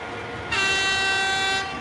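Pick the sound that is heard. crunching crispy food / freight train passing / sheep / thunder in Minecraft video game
freight train passing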